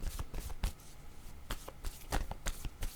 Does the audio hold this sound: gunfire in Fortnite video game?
no